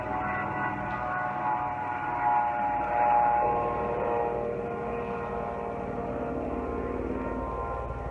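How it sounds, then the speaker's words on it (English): A steady, droning aircraft engine hum holds throughout, swelling slightly midway as it passes overhead, with no talking. "Airplane going by."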